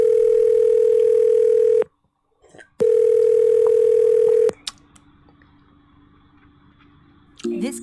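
Loud steady telephone dial tone on a phone call, cut off by a short silence, then resuming before a click gives way to a faint hum and a brief burst of dialing tones.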